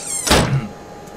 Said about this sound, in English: Slam the door on me, bitch.